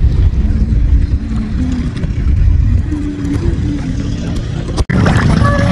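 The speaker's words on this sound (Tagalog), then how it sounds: "Madami na ding tao at that time. Ayan, daming bangka." Engines of boats near a sandbar in Bohol, a loud low rumble with shifting tones as craft pass close, a sharp knock near the end, open-air water setting.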